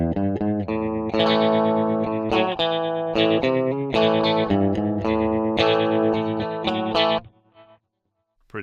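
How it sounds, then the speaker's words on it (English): An electric guitar runs through a Blackstar ID Core V3 amp with tremolo, ringing chords pulsing in a steady wavering throb under effects, loud and close, then cutting off near the end with a short decaying tail. "I'll stick a bit of tremolo on it as well"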